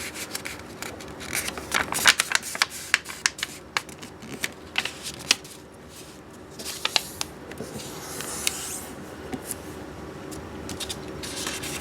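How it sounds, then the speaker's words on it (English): Square origami paper is folded in half diagonally for a tulip, giving soft crisp rustles, slides and sharp little creasing snaps close up, quiet and intermittent. "we're going to fold the square sheet of paper in half diagonally like this"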